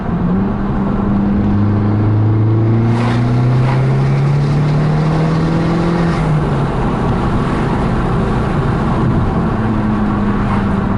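Abarth 500 with a 250 BHP tune and Power Motive valved exhaust revving close by, a loud rising engine note that climbs and falls through several revs over eleven seconds, deep and fairly subtle rather than raspy.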